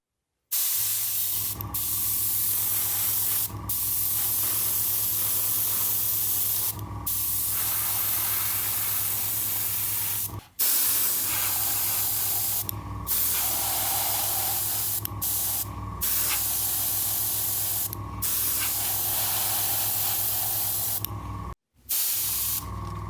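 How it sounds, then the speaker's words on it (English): An airbrush sprays green paint onto a plastic scale model tank in long continuous hisses separated by brief pauses, steady and close, with a constant low compressor hum beneath and no voices. "so that's all the spraying done"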